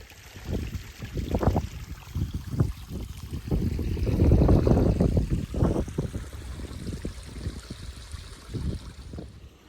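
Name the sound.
waterfalls flowing on moorland clough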